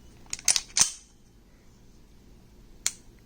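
An HK P2000SK pistol dry-fired: a cluster of sharp metallic clicks from the action, followed after a pause by a single crisp trigger click, close up and without talking.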